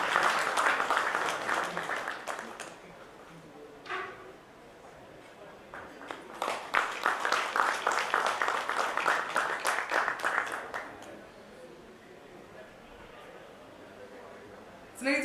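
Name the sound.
audience applause for Aditya Verma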